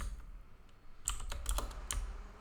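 Computer keyboard typing while writing PHP code, quick irregular key clicks close up, with a quiet start and a denser burst of keystrokes in the second half.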